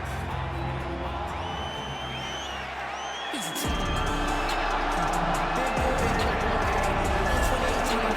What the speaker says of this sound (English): you hear the pop from the crowd, DC, as Nate Diaz gets set to make this walk here tonight